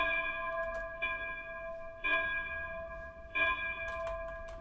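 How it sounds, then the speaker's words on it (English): A virtual ship's bell aboard the Star Trek Enterprise-D, recreated in Unreal Engine 4, is struck four times at slow intervals. Each clear metallic ring rings on with a long shimmering decay. "Can I ring the bell?"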